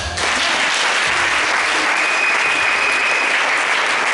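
A church congregation at a French-language worship service breaks into loud, sustained applause, a dense, even wash of many hands clapping together throughout.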